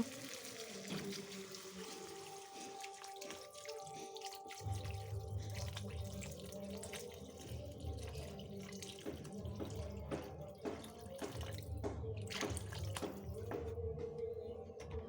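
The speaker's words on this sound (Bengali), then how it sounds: "এবার মশলাটার ভিতরে পরিমাণ মতন জল দিয়ে দেবো সিদ্ধ হওয়ার জন্য" Water poured from a tap or jug into a pan of cooked spice masala for an egg curry, a steady running splash that thickens after a few seconds and continues throughout, close and moderately loud with no talking.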